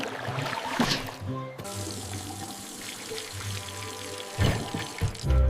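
Water pours and splashes into a trough for horses in a kids' cartoon farm scene, a continuous close trickling stream with brief splashy bursts, set under light background music.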